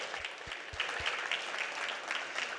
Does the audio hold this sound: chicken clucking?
no